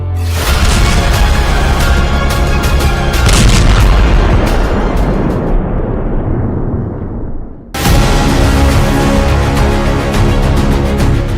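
Bombing explosions strike Beirut, heavy booming blasts with loud roaring rumble that fades over several seconds before another strong blast hits, all harsh and close with no talk.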